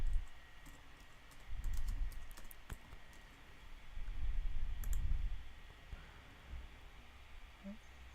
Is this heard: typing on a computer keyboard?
yes